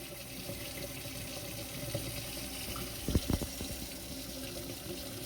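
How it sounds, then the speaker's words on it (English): Cold water runs steadily from a sink tap with an even, close hiss, broken by a couple of brief knocks midway. "So the water's turned on to the sink"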